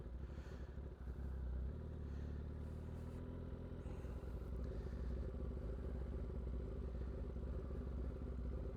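A motorcycle pulls away at zero throttle, its engine holding a low, steady mid-pitched chug with faint mechanical clatter, close and continuous, no voices over it.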